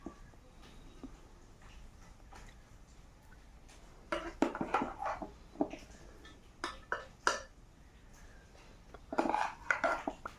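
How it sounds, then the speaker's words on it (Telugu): Fried onions and cooked rice are added to a chicken dum biryani pot, bringing scattered metallic clinks and scrapes of a spoon against the pot, sparse at first, then busier in clusters. "వేగించిన ఉల్లిగడ్డలు కొన్ని, రైస్ వేసుకుందాం ఇందులో."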